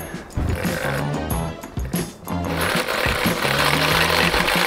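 Chainsaw engine revving loudly, held at a steady roar with a brief dip partway through, used in an attempt to climb a building; no clear talk over it.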